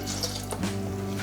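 Tangerine liqueur pours into a homemade filter packed with two cotton pads under a screwed-on cap, a steady close liquid trickle and gurgle running through the whole moment.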